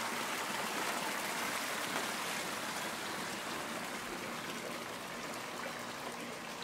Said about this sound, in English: Got the koi pond there.